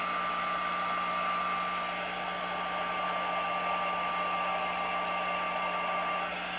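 A hair dryer runs steadily at close range, drying a handmade tea bag, a loud continuous airy roar with a constant motor whine and no break or talking.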